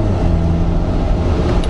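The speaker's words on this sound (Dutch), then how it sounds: "Motoren zijn goed, je hoort die diesel wel wat brommen." Low, steady drone of a Seat Tarraco diesel engine heard from inside the car while driving, a constant hum with road noise and no talking.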